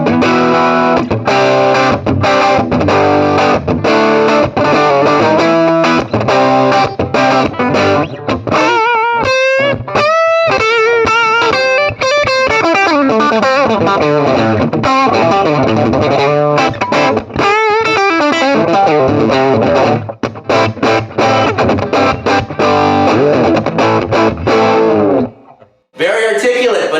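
An electric guitar played through a cranked Swart AST Pro amplifier rings out dense and distorted, loud chords and single-note runs filling nearly the whole stretch before cutting off near the end.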